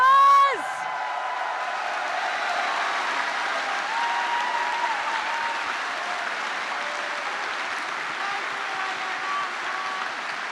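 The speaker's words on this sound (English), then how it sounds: "Big applause!" Loud applause from a large convention crowd at an opening ceremony fills the whole stretch, steady clapping with scattered cheers and whoops after a brief opening tone.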